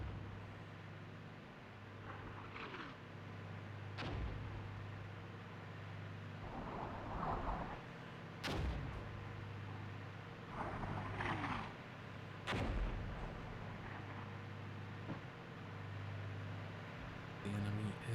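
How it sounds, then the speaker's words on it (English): Enemy gunfire and artillery in a Cold War real-time strategy battle near Lübeck, sharp cracks and booms scattered across a steady mechanical battlefield hum, several loud blasts standing out at irregular intervals. "The enemy is shooting around."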